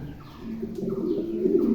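Pair of black imported African Mundian pigeons, a large breed, cooing in a loft: low, rolling, throaty coos that rise and swell over a faint chirpy background, close by and steady throughout.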